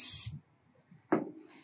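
A short burst of spray coating hisses at the start as it is applied to a phenolic plywood trailer floor, followed by a quiet pause and a thump with a faint hiss trailing off.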